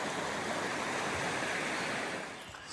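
A river flows beside a riverside walking path on the Upper Teign near Fingle Bridge, a steady broadband rush of water, loud and close, continuous throughout with no talking.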